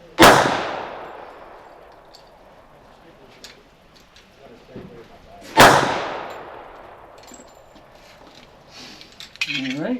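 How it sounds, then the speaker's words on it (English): A .45 ACP pistol fires two loud, sharp shots about five seconds apart. Each has a long ringing decay, and a brief clatter follows near the end. "I'm out of practice with this gun. I'm shooting it two-handed."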